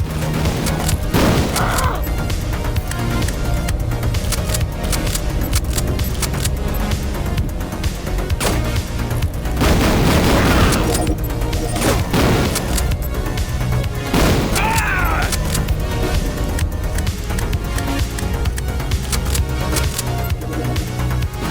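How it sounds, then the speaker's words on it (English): Shotgun blasts in the sci-fi shooter game Mace Griffin: Bounty Hunter thump out repeatedly amid dense, loud game combat noise, with sharp booming hits scattered through a constant rumbling backdrop. "Yep, the shotgun is doing pretty good work here."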